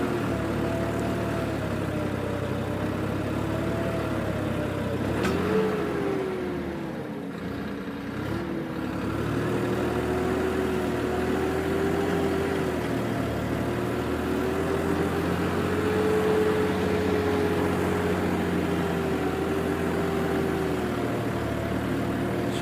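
A tractor engine drones steadily while pulling across a damp, uneven field, its pitch rising and dipping under load, with a continuous near hum and no talk.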